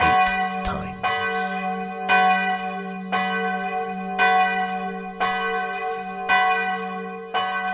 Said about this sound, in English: The calm before the storm ended when the town hall bells tolled 8 times.